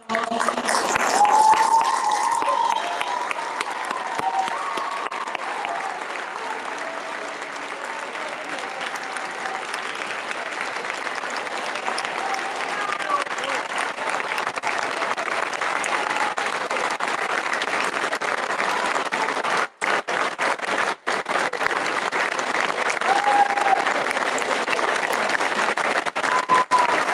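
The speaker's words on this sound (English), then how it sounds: "Let's give one more round of applause for all these teachers." Audience at a school Veterans Day event applauds steadily, a sustained wash of clapping that carries on with little change and drops out briefly twice near the end.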